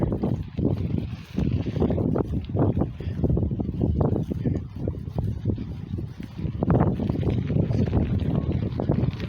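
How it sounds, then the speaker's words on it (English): Strong gusty wind buffets the microphone on the Spruce Railroad Trail, coming in irregular low rumbling bursts that rise and fall continuously for several seconds, with no voices. "Oh my God, it's windy today."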